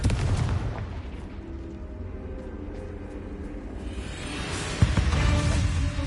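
Blasting curse explosions from the Confringo spell in the Hogwarts Legacy video game, a rumbling burst of booms and crackling that swells louder near the end with a sharp hit around the fifth second.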